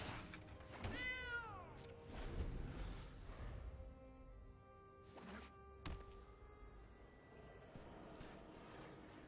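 A cat gives a clear rising meow close by, followed by a few softer mews and scattered thumps in an otherwise quiet room.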